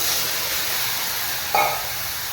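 Ground masala tipped into a pan of dried fish frying in oil, a continuous close hiss and sizzle that swells briefly partway through.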